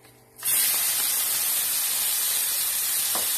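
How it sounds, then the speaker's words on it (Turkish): Fatty minced meat hits a hot pan and frying in its own fat bursts into a loud, sudden sizzle that continues as a steady hiss, close up, with no talking. "Kendi yağında şu an kavruluyor."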